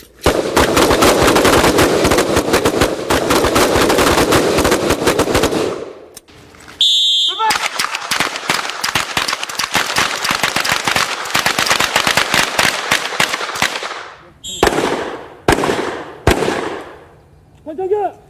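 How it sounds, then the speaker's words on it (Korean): Rapid bursts of submachine gun fire roar continuously for several seconds, then after a short pause more automatic fire follows, ending with a few separate loud pistol shots, all close and sharp with no talk. "기관단총을 쏘고 이어 권총 사격까지"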